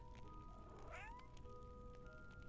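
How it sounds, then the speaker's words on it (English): A cat gives one short, rising mew over a faint steady hum, heard close but quietly, with no talking. "Such a cute mew."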